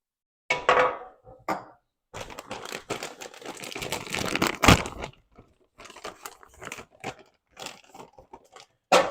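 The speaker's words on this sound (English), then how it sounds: "I'm going to toss these on the baking sheet" Frozen French fries tossed by the handful onto a greased baking sheet, giving bursts of dry crinkling, rattling clatter in several separate clusters, close and fairly quiet, with no talking.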